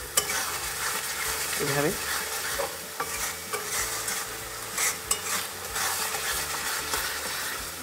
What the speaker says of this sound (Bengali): কাঁচা গন্ধটা যাওয়া পর্যন্ত খুব ভালো করে কষতে হবে।